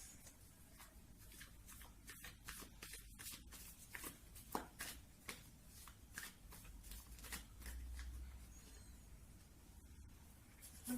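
Tarot cards are shuffled by hand in a quiet room, producing soft repeated riffling and flicking bursts in an irregular rhythm, close and gentle.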